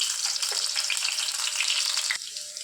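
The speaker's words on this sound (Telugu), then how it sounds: "ఆయిల్ హీట్ అయిన తర్వాత ఇందులో సన్నగా కట్ చేసి పెట్టుకున్న ఆనియన్స్ యాడ్ చేసుకోవాలి." Thinly chopped onions hit hot oil in a kadai, producing a dense, bright, continuous sizzle up close that eases slightly near the end, with no talking.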